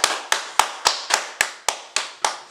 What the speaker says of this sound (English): So let's clap it up for Tom from Cat Comedy.